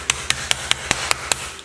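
A pronged meat tenderizer pounds chicken in seven sharp, evenly spaced strikes, close by and fairly quiet.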